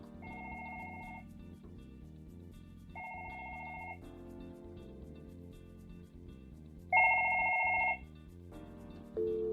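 A Fanvil V series desk phone rings with repeated electronic ringtone bursts, three clear rings spaced a few seconds apart over soft background music, the last one louder and close.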